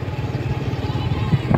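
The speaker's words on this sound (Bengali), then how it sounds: "মোটর সাইকেল নিয়ে ঘুরতে ভালো লাগছে এদিক দিয়ে" A motorcycle rides along a road, its engine a steady low drone that stays loud and close throughout with no talk.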